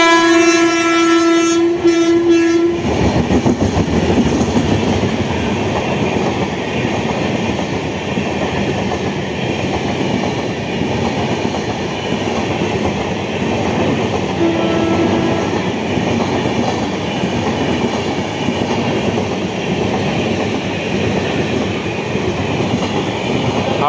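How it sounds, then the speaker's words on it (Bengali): The Howrah–Jabalpur Shaktipunj Express passing through Liluah station, opening with a loud horn blast, then a continuous, close, steady roar of rolling wagons and wheel noise. "হাওড়া জব্বলপুর শক্তিপুঞ্জ এক্সপ্রেস যাচ্ছে।"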